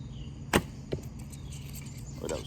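A Bear Kodiak 51-pound takedown recurve with an Old Glory string shoots a 510-grain Gold Tip Warrior arrow, giving one sharp, close thump of release followed shortly by a fainter impact, with quiet surroundings after.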